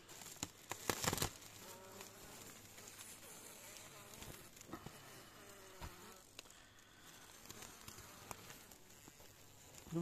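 Honeybees hum faintly and steadily in a low buzzing drone inside an opened hive in winter frost, with scattered soft taps and rustles, close but quiet.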